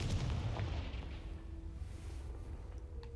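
Confringo fire spell blast in the Hogwarts Legacy video game, a loud booming burst up front that rolls into a sustained low rumble and fading crackle over about three seconds.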